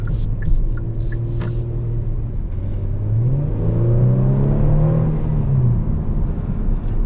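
A 2021 Kia Stinger GT1 accelerates hard, its engine rising in a sustained, loud whirring climb that drops and builds again with a downshift, heard close and alone.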